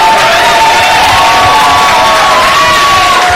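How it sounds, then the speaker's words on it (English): Loud cheering, whoops and applause from a crowd at a 2008 housing and community development meeting for Herb Wesson, close and dense with shrill voices over continuous clapping. "Let's give Herb Wesson a round of applause for the work that he has done."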